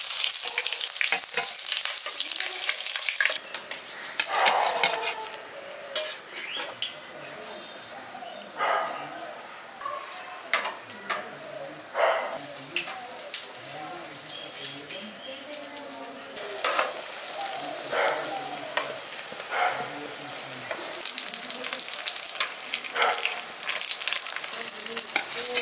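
Egg fulka batter frying in hot oil in a pan in a village-style kitchen, a steady loud sizzle throughout with scattered crackles and spatters, a dog barking faintly in the background and a few brief voices.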